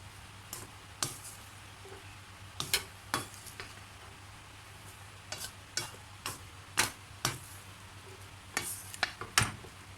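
Chicken fried rice with spring onion being stir-fried, a soft background sizzle punctuated by sharp, irregular clacks of a utensil striking the pan or wok.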